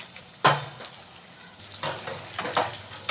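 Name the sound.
chicken kabab frying in a pan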